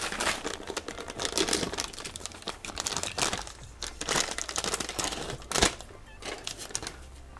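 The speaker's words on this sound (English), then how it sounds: "Just fold this where the filling is. Make a nice crease." A plastic Canadian MRE vanilla drink mix pouch is folded and creased by hand, giving a close, steady run of crinkling and crackling with a few sharper snaps and no speech.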